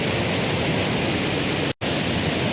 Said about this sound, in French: dès la première cascade, on voit tout de suite que ça coule de partout